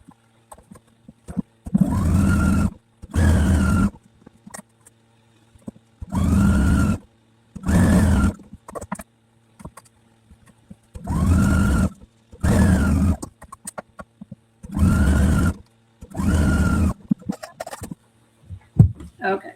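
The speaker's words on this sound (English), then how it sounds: "let's go ahead and chain piece all of these together." A Husqvarna Viking sewing machine chain piecing quilt blocks, running in a series of loud, close bursts about a second long, each a rising and falling motor whir with brief pauses and small clicks between them.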